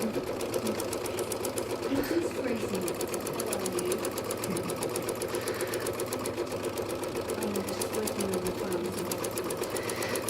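A sewing machine runs continuously doing thread work on fabric, its fast, even needle rhythm steady and close throughout.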